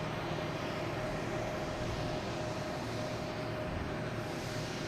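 JetBlue airliner arriving at Boston Logan Airport, a steady, faint broadband engine roar heard from a distance, constant throughout with no talk.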